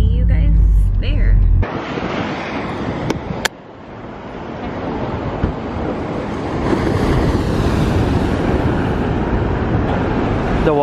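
Surf rolling onto the shore beside an RV stop near San Francisco, a steady, loud wash of waves with wind buffeting the microphone, a brief dip in the middle, and faint voices underneath.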